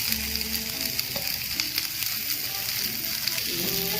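Tomatoes and translucent onion fry in a pan for a Mangalorean prawn curry, giving a dense, continuous sizzle with occasional stirring scrapes, close and steady, no voices.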